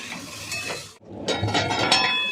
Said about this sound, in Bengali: নুনটা দিয়ে এবার মিশিয়ে নেব।